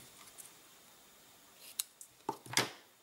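Quick scissor snips cutting a small piece of iridescent ribbon for a tag, a few crisp close cuts clustered near the end after a quiet start.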